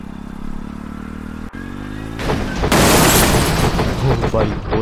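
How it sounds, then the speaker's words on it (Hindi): A motorbike crash in an Indian tractor driving video game: engine hum, then a sudden loud crashing burst of clatter and booming noise that stays dense and loud to the end. "भाई, बहुत तगड़ा एक्सीडेंट हो गया।"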